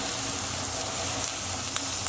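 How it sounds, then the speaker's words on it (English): Beef roast sears in a hot pan for slow cooker roast beef, a loud, dense, close sizzle that holds steady without pause, with a couple of faint pops. "We just want to sear on all the sides until we have a nice brown colour."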